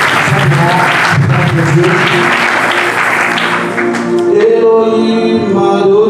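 A church congregation claps and cheers in praise, loud dense applause for several seconds that gives way to voices singing, with a preacher talking over it.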